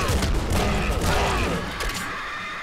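Grenade blast in the top-down shooter Nuclear Throne, a dense burst of explosive noise and rapid crackling gunfire that fills the opening second and a half, then thins into a rumbling tail.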